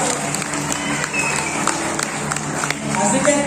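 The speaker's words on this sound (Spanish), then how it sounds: "quiero que escuchen los aplausos" An audience applauds the seminarians with steady, even clapping that fills the room, blended with crowd murmur and swelling slightly near the end.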